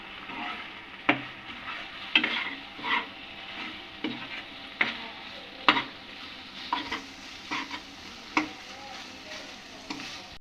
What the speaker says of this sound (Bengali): এখন এর মধ্যে আমি দেব ময়দা। এটাকে আর একটু নাড়াচাড়া করে এটাকে আমি নামিয়ে নেব।